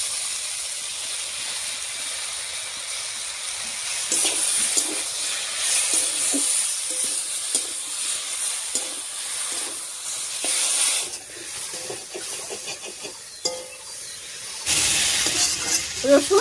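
Ground garlic and chilli paste hitting a pan of frying vegetables, giving a steady hiss that swells into busier crackling sizzle with scraping stirs, then settles.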